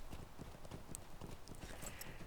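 Rapid, steady hoofbeats of a horse galloping in a fantasy video game, a continuous drumming rhythm running throughout at close range with no speech over it.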